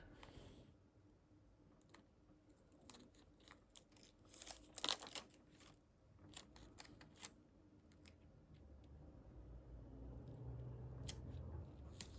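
Scissors snip paper for a Fauna & Flora journal in a quiet room, a scattered series of faint crisp cuts and light paper rustles, with one louder crinkle partway through and no voices.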